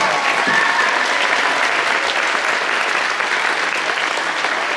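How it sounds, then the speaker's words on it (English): Loud, sustained applause from a large audience at a school spring concert fills the room for a choir, dense and steady throughout. "How about a round of applause for the comeback choir?"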